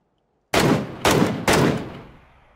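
Three loud, close gunshots in PUBG, each a sharp crack with a decaying tail, spaced about half a second apart, followed by a fading echo.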